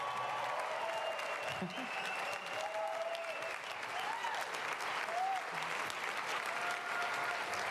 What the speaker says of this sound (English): I like that round of applause he's getting there